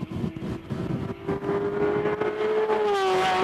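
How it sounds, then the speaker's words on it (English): A Ferrari 348 race car at full power on the long uphill climb at the Gurston Down hillclimb, its engine note loud and close, rising steadily in pitch as it accelerates hard over the crest. "Full power out of Ashes gets the tail out, but he's hard on the right-hand pedal for the long climb up and over Burke's Rise"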